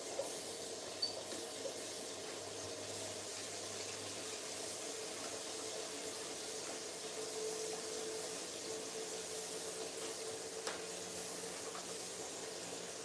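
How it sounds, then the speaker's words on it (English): Food is rinsed under running tap water, a continuous moderate rush of water into a sink with slight fluctuations and no talking. "let me rinse my food"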